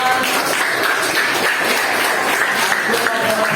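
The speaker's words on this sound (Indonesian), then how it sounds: "sekali lagi beri tepuk tangan buat kita semuanya" Students in a teacher-training classroom session at IAIN Pontianak applaud together, a steady, dense wash of clapping that holds at an even level for the whole stretch, with faint voices underneath.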